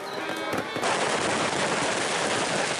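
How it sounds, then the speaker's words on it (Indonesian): New Year 2025 fireworks over the Kilometre Zero area of Yogyakarta: a dense, continuous rapid crackling and popping that bursts in loudly after a brief quieter start and stays intense and close throughout. "Kembang api diiringi suara sambut trompet pergantian tahun baru 2025 di kawasan titik 0 km Kota Yogyakarta"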